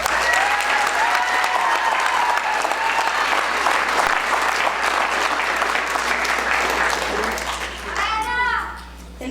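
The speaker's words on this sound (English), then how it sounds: "A quick round of applause from the audience for our students" Audience applause at a 2019 Truman high school graduation for dual enrollment students, a dense, sustained crowd clapping that fills the hall and then fades, with a few voices and cheers rising near the end.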